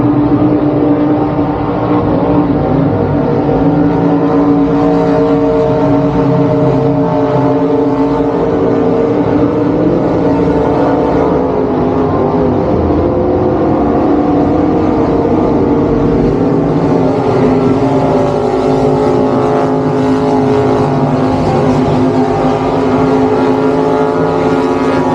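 Powerful speedboat engines at a river race in Australia drone loudly and steadily for a long stretch, a thick layered roar with a slight surge partway through, no speech.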